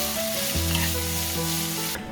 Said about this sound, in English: I'm just gonna saute the onions with the olive oil for about 3 to 4 minutes until they're softened